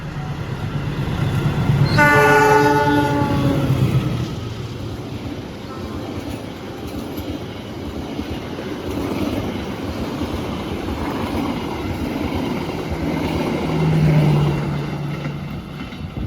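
An Indonesian Mutiara Selatan passenger train's horn blares loudly for about two seconds, followed by the long rumbling clatter of the train passing nearby.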